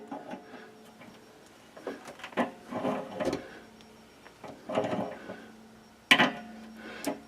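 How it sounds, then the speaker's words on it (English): Pliers tighten a stainless steel water heater hose fitting, giving close, quiet metallic clicks and scrapes in short uneven bursts, with a sharper click near the end. "Now I could just do this hand tight, but I'm going to take just a pair of pliers."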